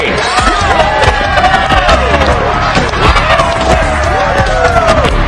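Crowd at a Dragon Ball Z tournament cheering and whooping loudly and continuously, with scattered shouts and claps forming a dense, close roar throughout.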